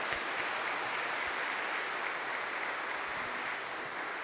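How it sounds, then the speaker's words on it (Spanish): A Christian trova concert audience applauds in a sustained, even rush of many hands, heard from a distance at a soft level and continuing unbroken without any voice over it. "Dale un aplauso muy fuerte a Él."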